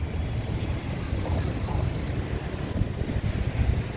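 Wind buffets the microphone over surf on Jomtien Beach in Pattaya, a steady rough rush of waves and gusts close by, with no voices.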